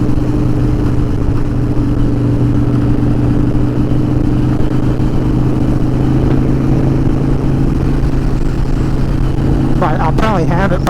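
A 2012 Harley-Davidson Dyna Wide Glide cruising on the interstate gives a steady, loud engine drone with constant wind rush, holding an even tone throughout and growing a brief warbling near the end.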